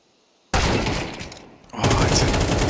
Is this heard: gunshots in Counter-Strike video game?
yes